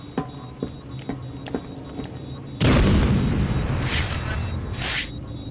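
A grenade bursts in Batman: Arkham City with a sudden loud boom that rolls into a long crackling, hissing roar, after a few softer thuds and clicks from the game.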